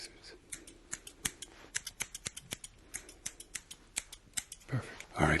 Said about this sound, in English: ignore everything else but the sound of the scissors